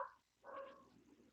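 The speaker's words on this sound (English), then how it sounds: "Sorry about the dog." A dog gives one faint bark, then a second longer bark or yelp, heard at a distance in a quiet room.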